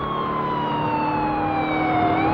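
A police car siren in GTA IV wails steadily, its tone gliding slowly downward, loud and close against a dense background of game traffic noise.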